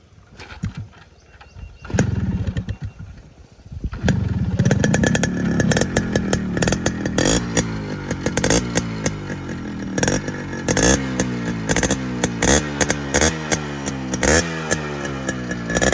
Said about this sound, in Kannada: ಇದು 2 ಸ್ಟ್ರೋಕ್ ಇಂಜಿನ. ಮತ್ತು ಸೌಂಡ್ ತೋರಿಸ್ತಿರ್ಲಪ್ಪ ನಿಮ್ಗೆ.